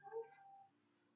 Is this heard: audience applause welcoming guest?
no